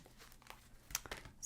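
Tarot cards being shuffled by hand, a few quick papery riffles and crinkles close by, with short soft bursts and a brighter flick near the end.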